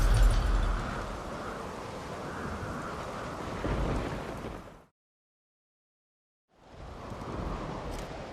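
Storm in a fantasy video game quest, with steady rain and rolling thunder roaring close and loud for several seconds, cutting to silence, then returning as a softer wash of rain and wind.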